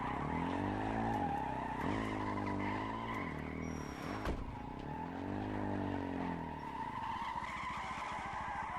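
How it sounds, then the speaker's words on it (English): A quad bike engine from the video game H1Z1 Just Survive runs steadily, its pitch rising and falling in repeated revving sweeps, loud and continuous throughout with no talking. "I can still hear that quad moving."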